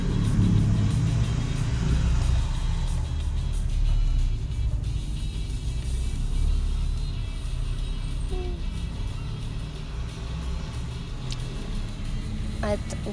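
Cars roaring and rumbling in a demolition derby video game, a continuous engine drone with occasional revs and knocks while a player talks over it.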